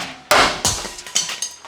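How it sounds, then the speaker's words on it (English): Big hammer striking a stubborn stuck part on a 4WD, one heavy metallic clang followed by several lighter, quicker blows that ring briefly and decay, close and loud, no talking. "Hit the dog with a big hammer."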